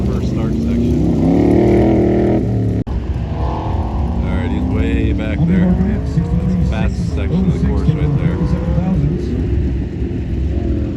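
An autocross car runs a course: engine note rising and falling as it accelerates and shifts, mid-distance and fairly loud, with a sharp knock near the start and a commentator talking over it throughout.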